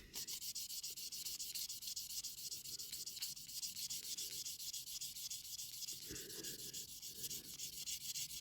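Steady hand sanding on the metal body of a 1957–59 Corgi Standard Vanguard diecast toy car, a continuous close rubbing rasp with slight stroke-by-stroke variation and no talking.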